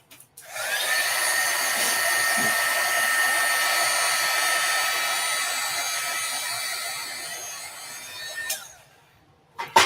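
A handheld dryer blows steadily on crepe paper for about eight seconds, a loud even whir from start to cutoff, followed by brief handling clicks, with no talk.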